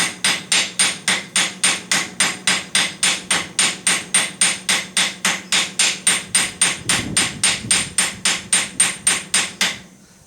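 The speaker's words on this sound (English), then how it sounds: "I'm just spreading out the head of the rivet with a ball peen hammer" A ball peen hammer strikes a rivet head in a fast, steady rhythm, dozens of sharp metallic blows in a row, close and loud.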